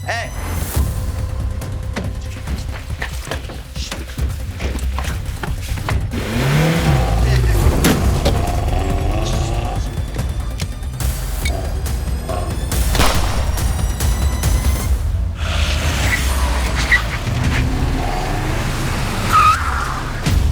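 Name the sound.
car engine revving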